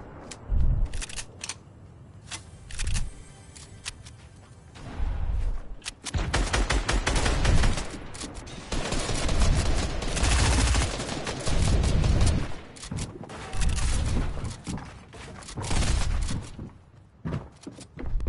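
Video game gunfire crackles in loud, rapid bursts and fusillades, with automatic fire rattling through the middle stretch and single sharp shots around it, close and dense.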